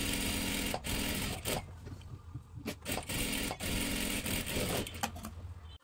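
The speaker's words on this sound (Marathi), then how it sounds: "आता इथे डबल शिलाई मारून घ्यायची आहे एका बाजूला" A sewing machine runs in quick bursts while putting a double line of stitching along a dress seam, a close, fairly quiet whirring hum broken by short pauses.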